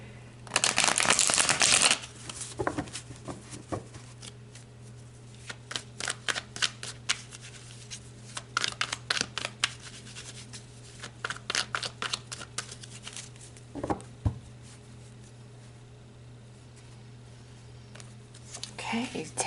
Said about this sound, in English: So let's pull some tarot and look a little deeper.